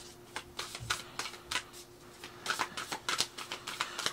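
A large deck of oracle cards is shuffled repeatedly by hand, bursts of crisp riffling and slapping in uneven clusters, close and fairly quiet.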